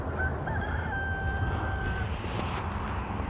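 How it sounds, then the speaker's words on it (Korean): A Korean Ogye (cheonggye) rooster crows on a farm in a drawn-out call, moderately distant and over steady outdoor background noise, with no talking. "청계닭도 키우고 있고"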